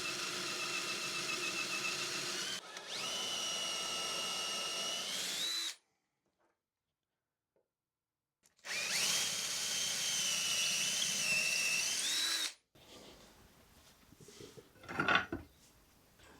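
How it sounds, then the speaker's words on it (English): A power drill bores into wood for a coffee table, first with a Forstner bit and then through with an 8mm bit, two loud sustained whining runs separated by silence, followed by quieter clattering handling noise. "I'm first going to drill down with a Forstner bit, then I'm going to drill all the way through with an 8mm bit"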